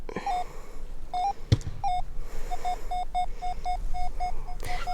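Metal detector sounding off over steel playground equipment in a park: repeated sharp, on-off electronic beeps at a steady pitch, clear and close, with a faint scuffing background.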